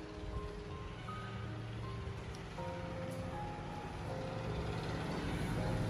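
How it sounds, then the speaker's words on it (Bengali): Rain falling outside a home, a soft steady patter under low household and street hum, faint and without talk. "কি সুন্দর বৃষ্টি পড়ে দেখ"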